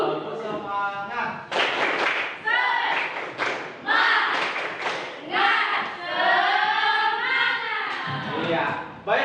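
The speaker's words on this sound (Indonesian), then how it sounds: "Tepuk semangat." Pupils in a school classroom perform a spirit clap chant together, loud group claps in short patterned bursts mixed with energetic shouted chanting voices.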